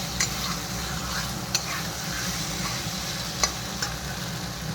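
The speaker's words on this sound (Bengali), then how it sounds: "মশলাটা দিয়ে আলুটা দিয়ে কষিয়ে নেব ভালো করে।" Boiled potatoes with spices are stirred and sautéed in a pan for rajma masala, giving a steady frying sizzle with a few sharp clicks of the spoon against the pan.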